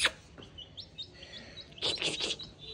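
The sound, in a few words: baby chicks chirping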